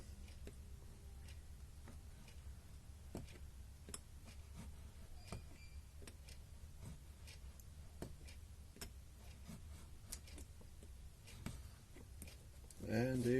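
A knife scores clear plastic along a ruler in many light passes, a run of small sharp ticks spaced a second or so apart, faint and close, with a louder rustle at the very end.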